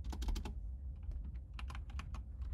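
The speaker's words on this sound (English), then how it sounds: "And now when we type a command, we're going to get" Rapid bursts of keystrokes on a computer keyboard as a terminal command is entered, close but soft, clustered taps with a brief lull in the middle.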